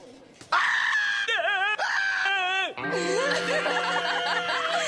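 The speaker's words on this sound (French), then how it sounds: "T'as entendu ce hurlement? On aurait dit une fille." A cartoon character in the animated series 6teen lets out a loud, high, wavering scream at a batting cage, in several shrill bursts followed by giggly, chuckling vocal sounds.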